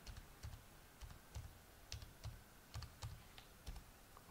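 Keystrokes on a computer keyboard while a register value is entered on an STM32MP135F board setup, light irregular taps in small bursts, close and fairly quiet, with no talking.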